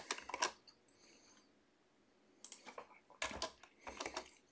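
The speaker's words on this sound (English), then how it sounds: "Just typing too fast for my own good." Rapid bursts of typing on a computer keyboard, several quick clusters of keystrokes separated by short pauses, close and fairly quiet, with no speech.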